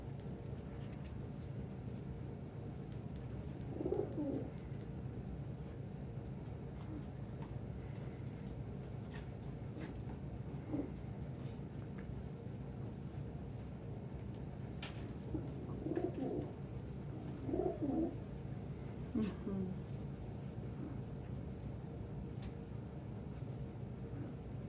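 Pet birds coo softly in short repeated phrases against a steady low background hum, the coos coming in a few scattered bursts with no talking.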